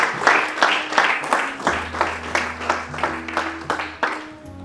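A church congregation claps steadily in rhythm, acclaiming the Lord in worship, with bright, regular clap bursts over a sustained low musical tone.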